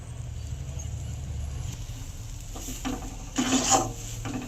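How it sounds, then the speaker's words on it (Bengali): Palm dough being hand-mixed with freshly grated coconut, giving soft rubbing and scraping over a low background hum, with a louder burst of mixing near the end. "এবার ভালো করে একটু মিশিয়ে নেব"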